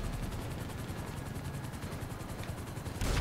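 Rapid automatic gunfire aimed at police helicopters in GTA V Online, a dense sustained rattle of shots over continuous rotor and engine roar, loud and steady throughout with a heavier burst at the end.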